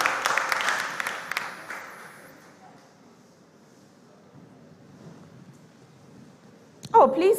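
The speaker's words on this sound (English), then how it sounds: "Please clap for Adom as he takes his seat." Audience applause at a school quiz competition, strongest at the start and then thinning away to quiet, with a voice speaking at the very end.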